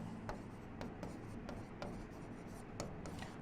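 Pen or marker writing a physics equation on a board, with faint, steady scratching strokes and small repeated taps, quiet and close with no talk.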